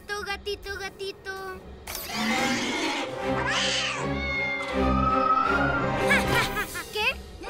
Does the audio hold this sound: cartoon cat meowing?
yes